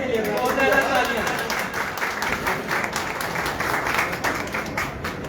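A crowd applauds champion players at a tournament prize distribution, a loud sustained burst of clapping that starts strong and settles into a steady roar, with some chatter mixed in.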